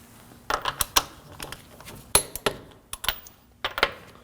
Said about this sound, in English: Now we're going to torque the lugs to 89 foot-pounds.